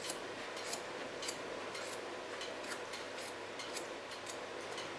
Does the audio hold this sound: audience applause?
no